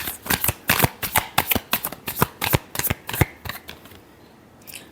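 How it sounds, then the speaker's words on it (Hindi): A tarot card deck being shuffled, giving a quick run of crisp riffling flutters in irregular bursts, close and fairly loud, with no talk, before trailing off near the end. "Last shuffle."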